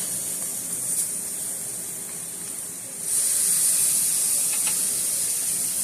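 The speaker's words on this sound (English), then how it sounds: "Just let those seasonings cook up in my spinach." Spinach and seasonings cook in a pan with a steady sizzling hiss that grows louder halfway through, close by and without any voices.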